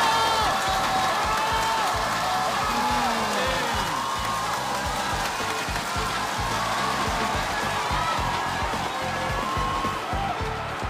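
A studio audience at a televised chef cooking competition cheers and applauds to welcome a Michelin three-star European chef, a dense, steady roar of clapping and whoops that fills the whole stretch with voices mixed in.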